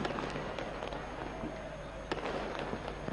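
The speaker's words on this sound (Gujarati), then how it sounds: "ક્યાંક આતશબાજી કરવામાં આવી" Evening fireworks at the Uttarayan kite festival in Gujarat crackle with scattered sharp pops and bursts, some at a distance, set against a busy outdoor background with voices mixed in.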